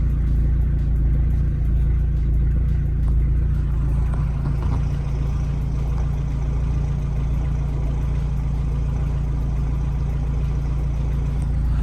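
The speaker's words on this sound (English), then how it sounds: "Look at how it's surging. I can tell by the noise in the engine." Vauxhall Astra 1.7 TDCi diesel engine idling with a surging fault, a loud close low rumble that swells and eases slightly, running continuously without speech.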